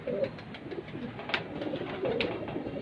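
Pigeons coo on a rooftop loft, soft repeated throaty calls rising and falling close by, with light rustling in between and no talk.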